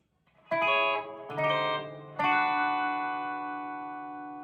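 A descending three-note brassy "wah, wah, wah" comedic failure sting, the last note held and fading slowly.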